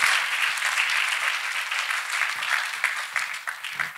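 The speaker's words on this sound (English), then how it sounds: "People of God, clap hands for Master Jesus." A congregation at a church testimony service claps hands together, a dense steady wash of applause throughout with faint voices mixed in underneath.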